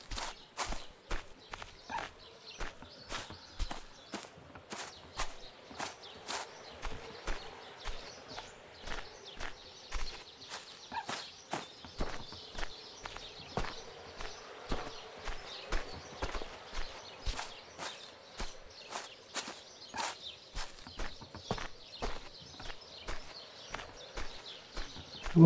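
A horse walks back to the stables in a farming video game, steady clip-clop hoofbeats in a regular rhythm, fairly faint and close, continuing alone throughout.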